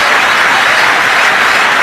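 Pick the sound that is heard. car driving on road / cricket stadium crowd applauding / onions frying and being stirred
cricket stadium crowd applauding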